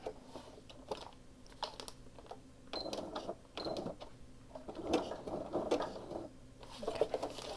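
A sewing machine stitches through a journal made from an Amazon envelope, with short irregular bursts of mechanical clatter and pauses in between, close and fairly quiet.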